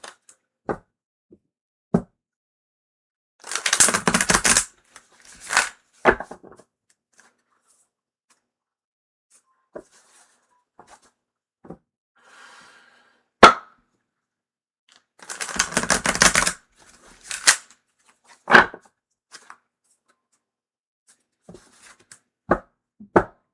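Two brisk riffling bursts of cards being shuffled nearby, separated by quiet stretches with scattered light taps and clicks on a table.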